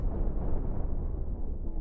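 Chained explosions of a ship's missile modules in a space battle video game, a continuous deep rumbling roar held steady for the whole stretch with no clear gaps between blasts.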